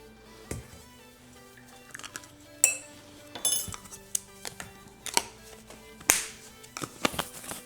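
A utensil stirs strawberry cake batter in a bowl, giving scattered clinks and taps against the bowl with soft wet squishes between them, close up and fairly quiet.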